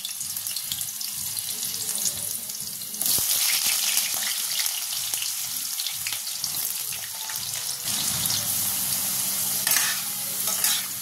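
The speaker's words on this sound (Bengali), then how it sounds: "এবার এই তেলের মধ্যে ফোড়ন দেব গোটা জিরে, তেজপাতা আর একটা শুকনো লঙ্কা দিয়ে এর মধ্যে কেটে রাখা আলুগুলো দিয়ে দেবো।" Cut potatoes hit hot oil spiced with whole cumin, bay leaf and a dried chili, the sizzle jumping louder and denser partway through, then crackling steadily up close.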